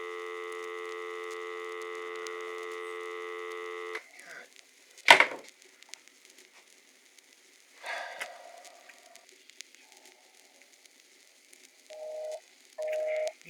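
For about four seconds a steady electronic telephone tone sounds, followed by a sharp click and scattered faint noises, then brief tonal bursts near the end.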